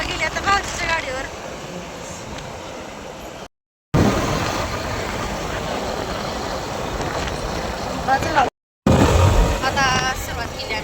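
Steady road and engine rumble from inside a car climbing a winding ghat road toward Shikhar Shingnapur, continuous with two brief dropouts, and faint voices now and then beneath the drone.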